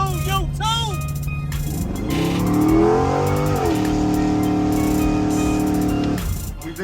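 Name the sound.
1972 Chevrolet Impala convertible with LS3 engine revving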